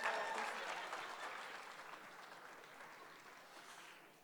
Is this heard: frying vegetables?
no